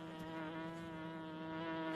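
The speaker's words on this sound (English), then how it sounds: "There's a bee!" A bee buzzes steadily and close by outdoors in warm spring weather, a continuous droning hum that holds level for the whole two seconds with no voices over it.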